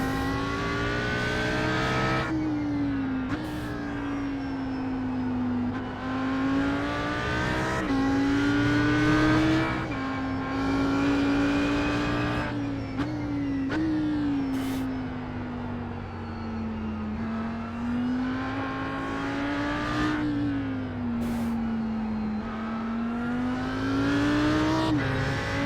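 An Audi R8 GT3 race car in iRacing on the Indianapolis road course, its engine droning loudly and steadily and rising through the gears with sharp upshift breaks, heard alone from the cockpit.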